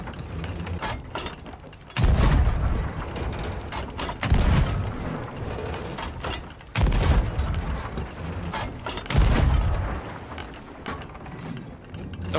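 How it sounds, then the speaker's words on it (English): Four heavy booming blasts of ship cannon fire in the game Sea of Thieves, spaced a couple of seconds apart, each followed by rumbling and mechanical clanking. "These cannons are super weird."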